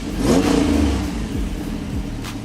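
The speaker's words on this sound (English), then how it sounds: "there are cars here, so obviously we're gonna get some sounds in there" A car engine revs nearby as vehicles pass, with a low rumble that rises and falls over a couple of seconds.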